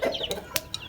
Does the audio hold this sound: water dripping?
no